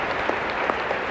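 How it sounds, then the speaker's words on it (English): An audience claps in a dense, steady burst of applause throughout, close and loud, with no voices over it. "Give Ali another round of applause."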